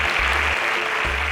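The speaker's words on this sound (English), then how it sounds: "Kindly let's give them a very deserving round of applause." Audience applause at a Kenyan school competition event, a brief steady burst of many hands clapping, fairly loud and close, with a low hum underneath.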